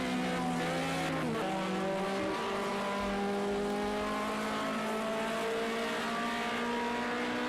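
Several touring cars in a racing video game sweep through the Parabolica corner and accelerate down the straight. Multiple engines drone and whine loudly together, rising in pitch, with a brief tyre squeal.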